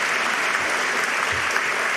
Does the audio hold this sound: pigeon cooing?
no